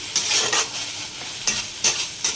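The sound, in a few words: spice paste being stirred and fried in a pan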